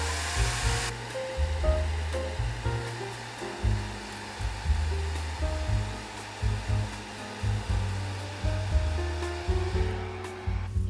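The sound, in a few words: hair dryer warming masking tape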